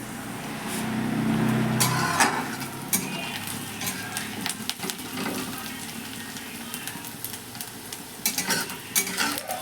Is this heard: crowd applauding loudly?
no